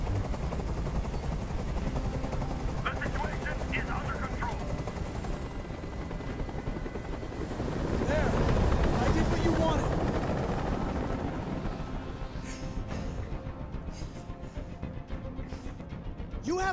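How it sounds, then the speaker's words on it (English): A helicopter hovering in the game Detroit: Become Human, its rotor thuds and engine drone filling the scene steadily, swelling louder midway before easing back, with faint other noises over it. "I can't stand that noise anymore. Tell that helicopter to get out of here."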